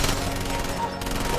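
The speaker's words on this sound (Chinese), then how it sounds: "他们拿着机枪对着小黑家房子疯狂扫射" A machine gun hammers away at a house in a film scene, a fast, dense stream of close, loud shots that runs without pause through the short burst.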